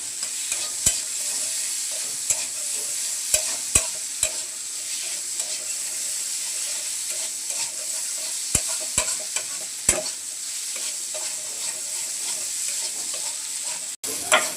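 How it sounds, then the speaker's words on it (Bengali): Potatoes with salt and turmeric frying in a pan, a steady soft sizzle broken by sharp scrapes and knocks of a spatula stirring, close and continuous without talk. "আলুগুলোকে সুন্দর করে লাল লাল করে ভেজে নেব"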